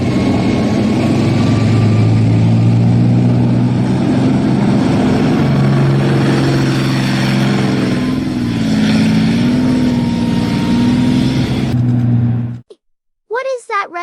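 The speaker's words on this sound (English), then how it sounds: "is a military tank pulling a plow in the field?" A retired military tank working as a tractor and pulling a plow through a field gives off a continuous heavy engine drone with shifting tones, loud throughout until it cuts off near the end.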